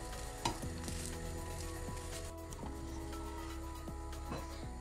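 Steady sizzling of crepe batter frying in a hot pan, a continuous crackle with occasional light scrapes and taps throughout.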